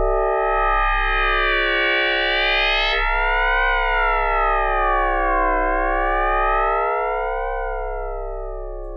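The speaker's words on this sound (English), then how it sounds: "I can either add vibrato, which is when we take a low frequency oscillator and we pass it through the pitch section of the sound." A Logic Pro X EFM1 FM synthesizer holds one bright, buzzy sustained note while an LFO vibrato slowly bends its pitch up and down in wide, smooth waves, loud and alone.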